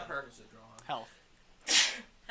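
A single sharp sneeze bursts out near the mic partway through, set among close conversational talk during a tabletop game session.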